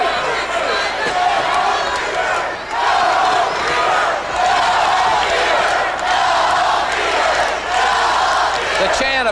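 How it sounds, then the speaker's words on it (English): A large wrestling crowd in a New Orleans arena chants steadily during an NWA tag match between the Steiner Brothers and the Freebirds, loud and dense with rising and falling shouts throughout. "The chant of "Go Home Freebirds.""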